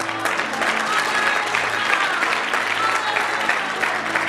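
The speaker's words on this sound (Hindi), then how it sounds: "आधा लोग ताली नहीं बजा रहे।" A church congregation claps loudly and continuously, a dense wash of hands filling the room with no pause.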